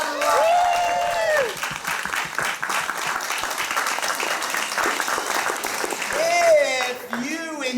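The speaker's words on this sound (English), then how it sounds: "Give yourselves a big round of applause" A theater audience at an improvised comedy show applauds warmly, a full round of clapping that holds steady for several seconds while a performer speaks over it at the start and end.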